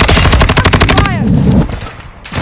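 Rapid automatic gunfire in the video game Call of Duty Modern Warfare 2, loud and close, in a steady burst lasting about a second before fading into lower battle noise.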